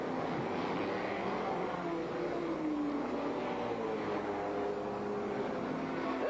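A race car pulls into the pits at the 1964 Nassau Trophy on the Oakes Field course, its engine a steady, fairly distant drone with a slowly rising and falling pitch over a constant roar of background noise.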